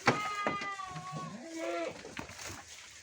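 A goat kept by a traditional farmer bleats several times in a row, close and fairly loud, with wavering, pitch-bending cries and brief rustling between them.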